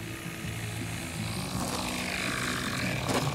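A propeller airplane drones steadily overhead during a skydiving jump, a continuous engine hum holding loud and even throughout with no talk.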